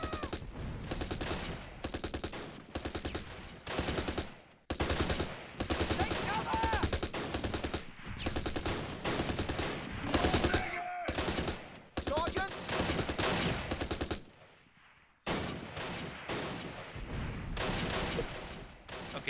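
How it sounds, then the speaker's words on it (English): Machine gun fire in the wartime strategy video game Close Combat: Last Stand Arnhem, dense continuous bursts of rapid gunfire with layered battle shots, sustained and loud with only brief pauses. "this machine gun here is holding down this road intersection"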